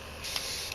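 A Rexley Rhinowisdom airbrush sprays model paint in a short, soft hiss that begins partway in and holds briefly, faint and close.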